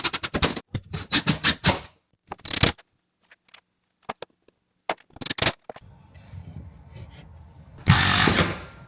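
Bursts of a power drill whirring and ratcheting in short pulses with pauses between, driving a screw into a wood block, followed by a longer loud grinding run at the end as the block splits.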